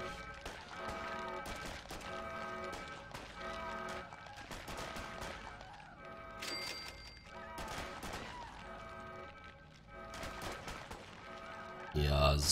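Guards fire their weapons in the game Fallout Shelter, making repeated bursts of crackling gunshots spread across the clip at moderate loudness, with background game music and no one speaking over it.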